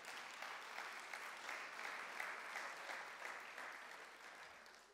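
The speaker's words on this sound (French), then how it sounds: "Applaudissons le Seigneur." Congregation applause during a French-language church service, a steady broadband patter of many hands clapping continuously, moderately distant, fading slightly toward the end.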